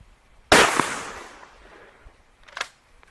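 A shotgun fires a single wax slug at jugs downrange outdoors, a loud sharp blast with a long fading echo, followed by a fainter distant report or impact about two seconds later.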